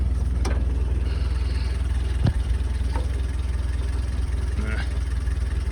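A Jeep engine in neutral holds a low, steady idle that drones continuously nearby, with a few faint clicks and knocks over the top.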